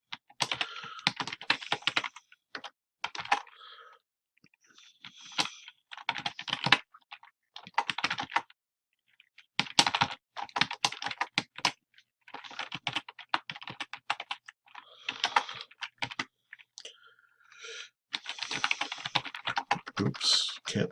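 Rapid clicking keystrokes on a computer keyboard come in irregular bursts with brief pauses, close and clear, as someone types in a Google Docs document with no talking over it.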